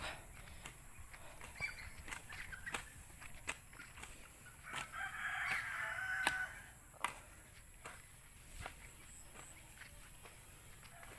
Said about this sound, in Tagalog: Tuwang-tuwa yung mga manok.